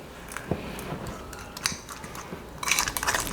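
Softened butter being mixed in a bowl with brown sugar for a compound butter, giving soft intermittent scraping and clinking of a utensil against the bowl, building into a louder, busier stretch of scraping near the end.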